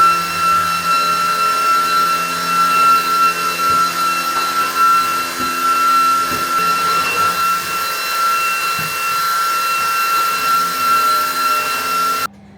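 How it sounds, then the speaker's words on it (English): A hoover vacuums floors during a pre-Christmas house clean, a steady loud motor whine with a high tonal hum running continuously for about twelve seconds, with faint bumps and knocks, then cutting off. "Okay, floors are hoovered."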